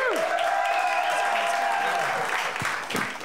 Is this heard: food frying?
no